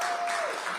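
Applause from an audience at a mayor's union agreement signing, a brief dense clatter of clapping.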